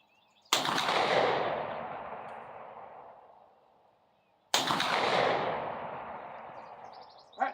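Two loud, booming shots from a Pedersoli Kodiak .50 caliber double rifle fired at a 50-yard target, spaced about four seconds apart, each with a long echoing decay across open ground.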